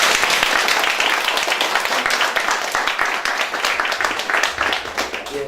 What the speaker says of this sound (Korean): 우리 격려의 박수 한번 드리도록 하겠습니다.